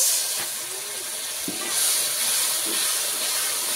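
Spice masala for a pomfret curry sautés in a pan as a steady, close hiss and sizzle, with a few soft stirring knocks coming through now and then.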